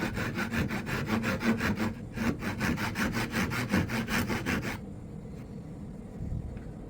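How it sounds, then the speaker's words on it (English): A hand saw cutting wood for a mortise in a wooden spokeshave repair, quick rhythmic back-and-forth strokes, close and loud, stopping after about five seconds and leaving quiet room noise. "just do some saw cuts here and mortise it in"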